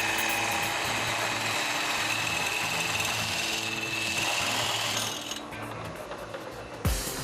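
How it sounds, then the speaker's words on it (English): A circular bit drills through a mountain bike frame tube clamped in a vise, giving a steady, loud mechanical grinding and whirring that runs continuously before easing off near the end. "it's clamped in a vise where it's drilled with a circular bit the same size as the tube to which it'll be connected"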